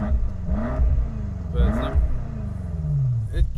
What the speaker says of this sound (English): It's got a lot of pops and bangs to it.